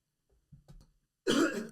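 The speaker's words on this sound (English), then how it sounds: "Stop coughing." A few soft throat sounds lead into one rough, forceful cough, close and isolated in an otherwise quiet room.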